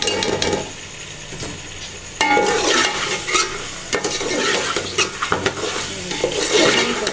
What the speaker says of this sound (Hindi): ये भी डालने लगी है और इसको करेंगे फ्राई